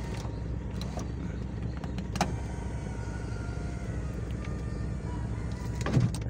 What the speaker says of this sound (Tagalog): napakaayos pa power window.